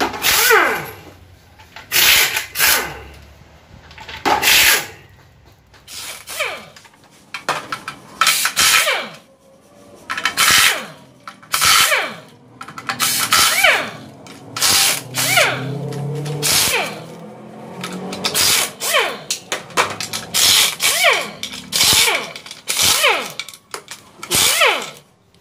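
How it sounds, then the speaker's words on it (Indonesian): A power tool spins out 10 mm bolts on a worn Toyota Harrier automatic transmission in a repair shop, a series of short, loud whirring bursts separated by pauses, with people talking between them. "Kita bongkar dulu baut 10-nya."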